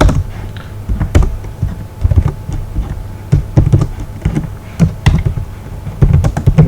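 Typing C# code on a computer keyboard, a steady run of close, crisp key clicks with irregular bursts and brief pauses, no voice over it.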